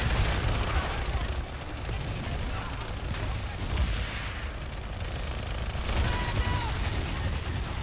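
Dense, continuous gunfire in the video game PlanetSide 2, with rapid bursts and booms layered loudly throughout and a voice speaking over part of it.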